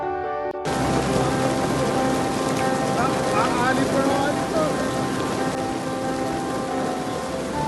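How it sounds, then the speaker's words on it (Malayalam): Hail falls in Qatar, pouring down abruptly and continuing: a dense, loud, steady clatter of ice pellets striking surfaces. "ആലിപ്പഴം മഴയല്ലേ ഐസണട്ടാ വീണത്"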